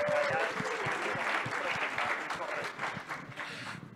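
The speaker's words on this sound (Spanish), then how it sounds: "Un aplauso para Anita" Conference attendees at a blockchain talk in Bogotá give a warm burst of applause for a guest, a steady even clatter of many hands that thins slightly toward the end, with a brief voice at the start.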